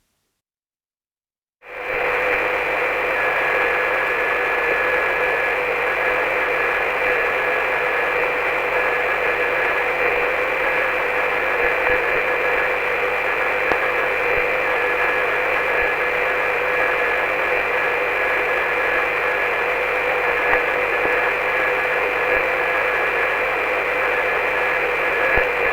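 After a brief silence, a steady radio tone rises above constant hiss and static, a faint telegraph-like keyed signal from the SAQ Grimeton VLF transmitter on 17.2 kHz, received with a TV set, running through the noise.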